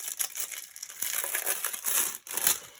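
Thick plastic wrap from a diamond painting kit crinkles and crackles in close, irregular bursts of sharp rustling, with brief pauses between handfuls.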